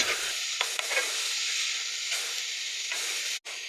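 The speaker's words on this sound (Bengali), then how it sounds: "কেটে রাখা লাউয়ের ছালগুলো এবার আমরা ফ্রাই প্যানে দিয়ে দেবো" Continuous hissing sizzle of bottle gourd peels frying in a frying pan, close and steady, with a few soft stirring scrapes.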